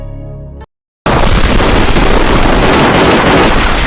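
Film scene gunfire in a loud, continuous, dense barrage that bursts in right after a brief moment of silence and keeps roaring without a break until the end.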